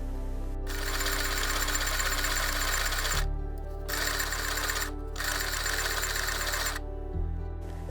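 Sewing machine running in long steady bursts as it stitches silk lining for a corset top, a close, loud mechanical whir with brief pauses between three runs.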